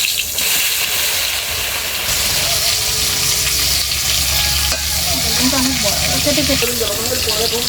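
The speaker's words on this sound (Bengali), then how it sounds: "মাছ ভাজা তেলের মধ্যে বেগুনটা ভেজে নেব" Eggplant slices sizzle in oil left from frying fish, a loud, steady crackle with stirring scrapes, and a voice talks over the frying toward the end.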